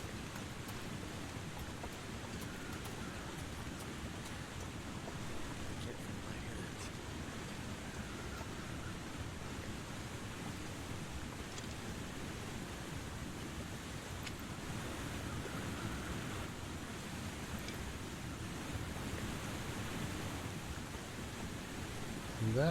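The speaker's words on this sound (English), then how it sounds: "That waterfall just deafens you." Roaring waterfall in the video game The Long Dark, a steady, dense broadband rush of water that stays loud and unbroken throughout, with no clear voices over it.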